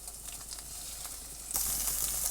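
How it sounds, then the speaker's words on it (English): An egg cracked into a little oil in a pan sizzles and crackles steadily, the frying hiss swelling louder partway through as it hits the hot oil, with no talking over it. "I'm going to put in a little bit of oil because we're going to crack in 1 egg"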